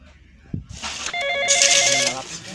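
An electronic telephone ringtone in a Sundanese comedy sketch sounds loud and close after a brief knock, a repeating melodic tone that fills the room, with no talking.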